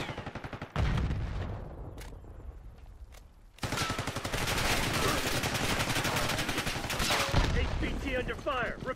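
Rapid automatic gunfire and bursts of shots crackle loudly during a Call of Duty Black Ops 6 multiplayer match, with a brief lull of scattered single shots before the heavy firing resumes.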